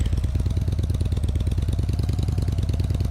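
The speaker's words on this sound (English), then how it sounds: "Motorbikes are really hard to drive" A motorbike engine in the Roblox Bloxburg game revs with a steady rapid pulsing throb, close and continuous with no talk.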